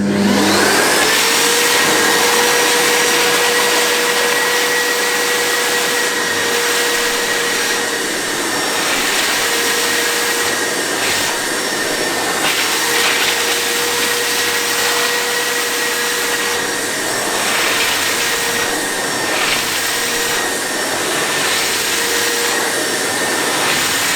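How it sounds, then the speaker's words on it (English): An Evolution R15VAC wet and dry shop vac runs steadily while vacuuming up a spill, giving a loud, close, continuous motor whine and rushing suction with slight shifts in tone and no talking. "put the vacuum back together again, and now it's ready for wet operation."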